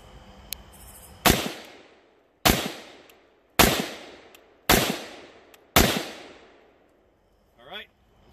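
A rifle fitted with an A2 flash hider fires five sharp, loud shots at night, evenly spaced about a second apart, each with a short ringing tail, followed by a brief voice.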